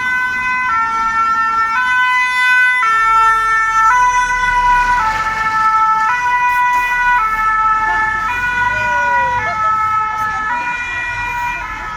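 An emergency vehicle siren wails loudly and nearby on a market-day street, alternating two tones in a steady rhythm as it passes, with road traffic rumbling underneath.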